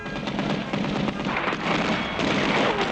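Cartoon gunfire from villains shooting at Underdog, whose bullets bounce off him, makes a dense, loud, continuous crackling barrage throughout.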